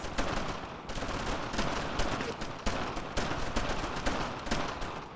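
Gunfire in the World War II shooter Brothers in Arms: Earned in Blood, dense bursts of rifle and machine-gun shots cracking repeatedly across the whole stretch, loud and close.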